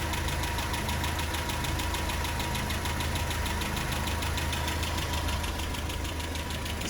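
A Land Rover Series 3 engine idles close by after a carburetor overhaul, a steady loud rumble with a rapid, regular clacking tick running through it the whole time.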